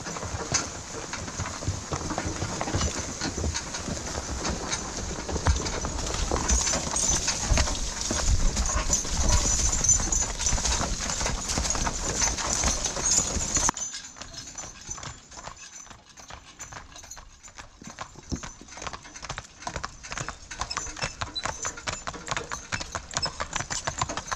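Draft horses hauling logs during autumn logging clip-clop steadily for a long stretch, with hooves and harness clattering nearby, loudest at first and then lighter and sparser in the second half.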